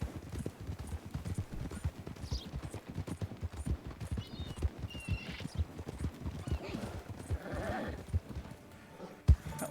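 Horse hooves clip-clop in Red Dead Redemption 2, a brisk rhythmic gallop with occasional snorts and a whinny, ending in a sharp thud.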